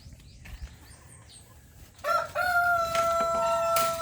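A rooster crows loudly up close, its long drawn-out call following a few quieter clucks and scratchy rustling.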